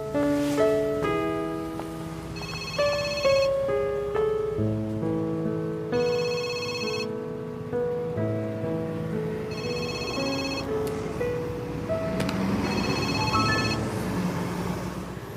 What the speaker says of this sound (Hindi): दावन का फोन तुमने कैसे उठाया?